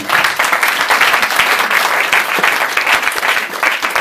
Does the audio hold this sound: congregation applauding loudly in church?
yes